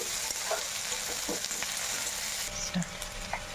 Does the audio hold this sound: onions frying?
yes